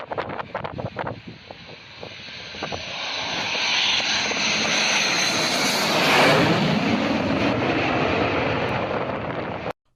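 A fighter jet engine roars loudly, building to a peak and sustaining a broad whooshing rush, after some brief sharp clicks at the start.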